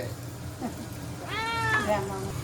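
A cat meows in a rising, drawn-out call near the middle, close by in a kitchen where teasel gourd and potatoes are frying, with a low hum and faint voices around it.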